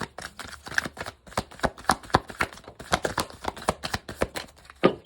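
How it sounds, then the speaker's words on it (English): A deck of cards is riffled and shuffled up close in a quiet room, a fast run of crisp, papery flicks and snaps in uneven bursts over about five seconds, with no talk. "Last shuffle, Spirit."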